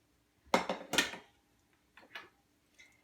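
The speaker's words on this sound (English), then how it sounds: "I love these tongs. They work out great. I'm going to dish a few up." Tongs dishing up noodles at a home dinner: two quick close clacks of utensils against a dish, followed by a couple of fainter taps, with no talk.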